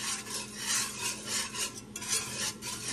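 Flour stirred and cooked in a pan, a rhythmic scraping and rasping of a utensil against the pan bottom, repeating in short strokes about every half second, fairly close, with no talk.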